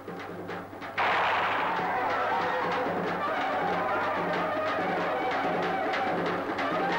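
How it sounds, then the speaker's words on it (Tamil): A firecracker blast signalling the start of a village tree-climbing contest cracks out loudly after a second of background murmur, followed by a dense, lingering roar of crowd noise and echoing rumble. "வெடிச்சத்தம் கேட்டதும் வீரர்கள் தங்கள் திறமையை காட்டலாம்."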